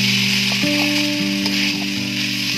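Vegetables fry steadily in a pan with a touch of sugar added, a loud continuous sizzle with a sustained steady hum running beneath it, close and alone without voices.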